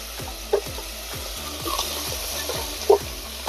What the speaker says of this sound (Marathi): तेल तापलेलं आहे. आता आपण मटण टाकून घेऊया.